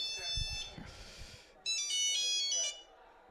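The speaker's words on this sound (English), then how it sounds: "Oh, is that my cell phone?" Cell phone ringtone playing a repeating electronic melody, starting moderately loud and then louder after a short pause, with a person's movements and faint sounds beneath it.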